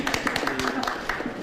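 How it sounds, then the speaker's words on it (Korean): President Moon Jae-in claps his hands in quick, light strokes, faint and brief beneath a narrator's voice. "문재인 대통령이 박수를 치며 기대감을 나타냅니다."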